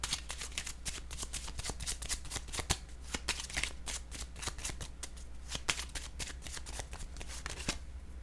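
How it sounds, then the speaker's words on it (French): Tarot cards are shuffled and laid out on a table, a quiet, dense series of crisp riffling snaps and soft slaps repeating through the whole stretch with no speech. "Je vais déposer une autre carte ici."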